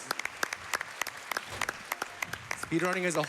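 Audience at a speedrunning marathon event bursts into sustained applause and cheering, loud and close, with sharp clapping throughout and a swell of crowd voices near the end.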